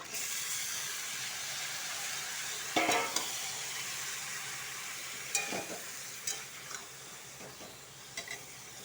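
Constant loud sizzling and hissing of lemon-marinated chicken frying in a pan, with occasional scrapes and clanks of stirring.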